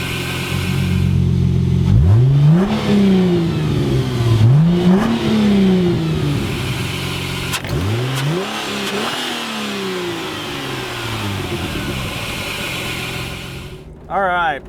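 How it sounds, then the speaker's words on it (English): A 1999 Plymouth Prowler's V6 fires up close by and revs hard several times in rising and falling sweeps, then settles toward a rough idle, with a brief burst of talk near the end. "We're gonna start up that V6, which is not a V8"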